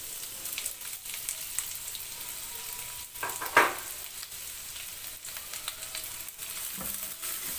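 Two chopped onions frying lightly in homemade ghee, a steady soft sizzle running throughout with one brief louder crackle near the middle.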